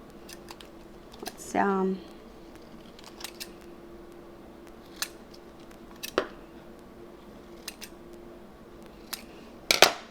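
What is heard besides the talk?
scissors cutting HTV vinyl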